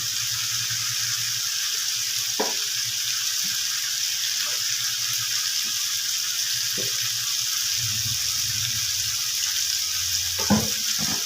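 Chicken pieces sizzling steadily in a covered pan while being cooked down with ghee and sugar, with a few scattered clinks and scrapes from stirring over a constant hiss.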